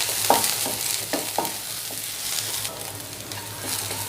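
Sliced onions frying in a pan crackle with a steady sizzle, while a spoon stirs and scrapes several times in quick, close strokes.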